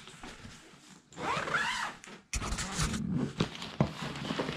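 A zipper is pulled open on a Guava Lotus travel crib bag, with a long close unzipping rasp followed by rustling, scraping and handling of the fabric bag, with no talking.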